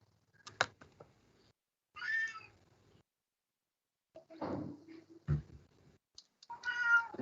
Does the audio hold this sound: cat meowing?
yes